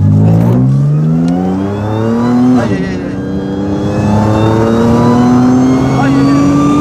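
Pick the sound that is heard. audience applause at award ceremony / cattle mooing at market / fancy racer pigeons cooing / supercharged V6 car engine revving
supercharged V6 car engine revving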